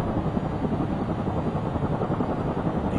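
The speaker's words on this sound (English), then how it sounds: "The chopper's very close this time." A helicopter flies very close overhead amid conflict, its rotor chop a loud, steady, rapid throbbing that continues without a break and with no voices.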